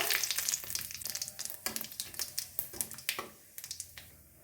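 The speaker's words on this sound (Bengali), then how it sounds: "এই মাছ ভাজার তেলেই আমি দিচ্ছি একটু গোটা জিরে একটা তেজপাতা একটা শুকনো লঙ্কা" Whole cumin seeds, a bay leaf and a dried chilli crackle and sizzle in hot oil left from frying fish, a quiet, busy spattering with rapid irregular pops close by.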